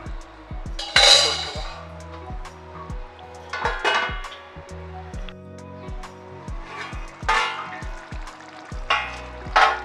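Okra fries in a spicy tamarind masala in a pan, giving a steady sizzle broken by stirring and scraping swells and a few knocks of metal on the pan, close by, with no speech.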